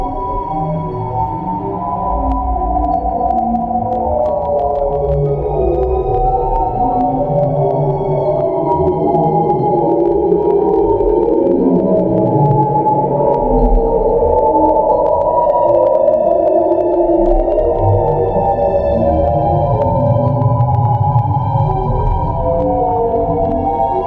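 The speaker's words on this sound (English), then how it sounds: "This is the sound of the Helix Nebula," Sonified data from the Helix Nebula, a dying star, plays as a steady, loud, droning low rumble with eerie sustained tones and faint pinging overtones that last throughout.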